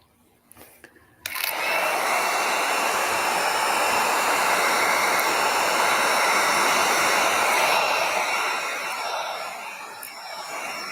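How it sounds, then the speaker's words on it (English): A heat gun blows hot air onto an epoxy accent piece: a loud, steady broadband whoosh that starts abruptly after a brief quiet moment, holds for several seconds and eases slightly toward the end. "Heat gun sounds like it's about ready to die."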